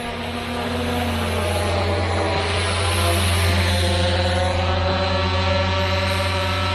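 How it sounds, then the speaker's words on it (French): A FIMI X8SE drone flies back toward the operator, its steady buzzing propeller whine loud and continuous, rising slightly as it nears, with no talk over it. "Le drone revient."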